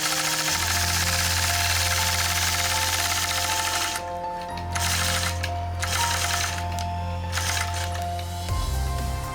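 A sewing machine runs steadily through straight ruler-guided quilting lines, a close, continuous motor hum with rapid needle stitching, briefly easing and shifting pitch near the end, with no talking.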